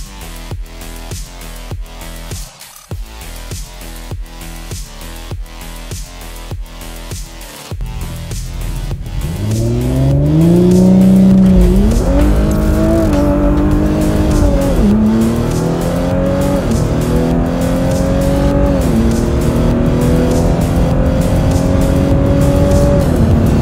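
A tuned Stage 2+ E85 034Motorsport car on Continental ExtremeContact tyres launches hard with added boost, the engine note climbing loudly through rising revs and gear changes after an idling, burbling start.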